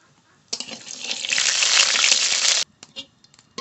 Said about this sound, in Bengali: অল্প কটা রাঁধুনি আর কটা জিরে একসঙ্গে গরম করে নেব